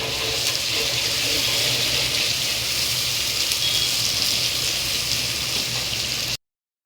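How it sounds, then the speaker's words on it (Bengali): Chopped onions fry in hot oil in a frying pan, a loud steady sizzle that hisses evenly without pause before cutting off abruptly at the end. "এখন দিয়ে দিচ্ছি কুচি করে রাখা পেঁয়াজ। পেঁয়াজটা একটু লাল লাল করে সুন্দর করে ভেজে নেব।"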